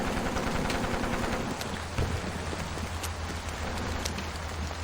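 Rain in the video game Portrait Of A Torn falls as a steady, dense patter on a surface, with a low constant rumble underneath and occasional heavier drops standing out.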